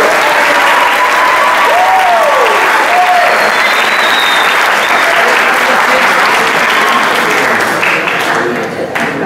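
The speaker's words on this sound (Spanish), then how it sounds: "Así que un aplauso para la profe Francisco." A crowd applauds teacher Francisca at a theatre school and expressive therapies launch, with loud sustained clapping from many people filling the room and a few voices briefly audible near the start.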